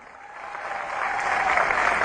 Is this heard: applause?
yes